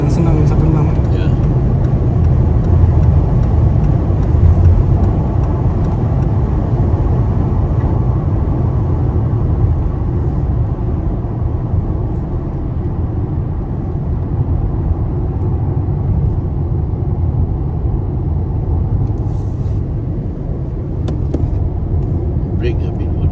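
A Volkswagen Touareg on the road gives a steady, loud low drone of engine and tyre noise from inside the cabin for the whole stretch, with voices faintly present at times.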